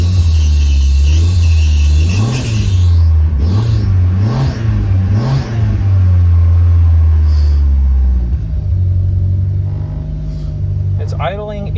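A Chrysler LeBaron turbo wagon's engine runs loud and close, with a steady low hum that rises and falls in a few short swells like light revs before settling back to an even idle.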